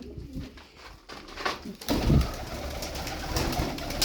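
Turkish tumbler pigeons, a flock of show birds, coo and flutter nearby in a steady, busy wash of cooing that grows louder and denser partway through.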